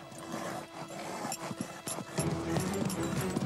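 Horse hooves clip-clopping during riding, a steady run of soft, fairly faint hoof beats over background noise.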